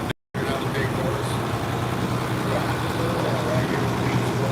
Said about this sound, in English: Our next tractor coming down,